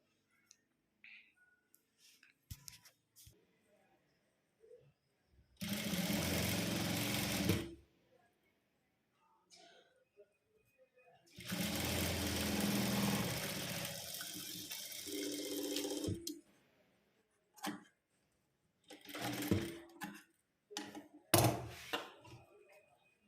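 A sewing machine stitches lace onto a puff sleeve in two long steady runs of rapid mechanical whirring, followed by shorter bursts and faint clicks, heard up close in a quiet room.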